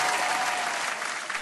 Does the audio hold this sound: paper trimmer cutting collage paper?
no